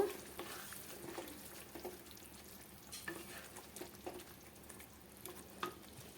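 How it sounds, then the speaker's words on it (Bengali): Dried bhetki fish curry cooking in a pan while stirred, with a soft ongoing sizzle and scraping strokes as hot water goes in, steady and moderately quiet with no voices. "এখন আমি এর ভিতরে আবার গরম জল দিয়ে দেব"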